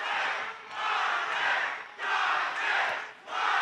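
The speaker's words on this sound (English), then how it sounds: "Both sides of the arena cheering for Montez." A packed arena crowd at an MMA featherweight semi-final roars in loud, sustained waves of cheering and chanting, swelling and dipping a few times with no clear talk on top.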